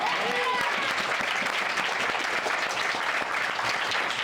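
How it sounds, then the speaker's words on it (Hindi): A congregation at a church service applauds for Jesus Christ, a continuous loud wash of clapping that holds steady throughout, with faint voices beneath. "क्या आप प्रभु यीशु मसीह के लिए तालियां बजा सकते हैं?"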